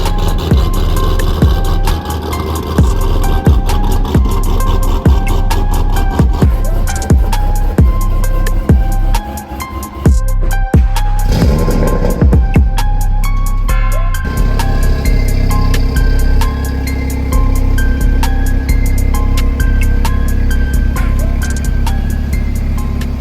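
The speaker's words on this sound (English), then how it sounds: "we'll cruise around the Audi and see how it pulls" An Audi car cruises and accelerates, its engine droning steadily and close for the whole stretch, with a brief dip partway through and no talk.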